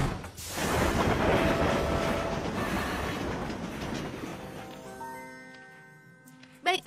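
A train in a My Little Pony cartoon clatters along the rails, a loud rumbling, rattling rush that gradually fades into the distance, followed by a tonal musical chime and a brief thump at the end.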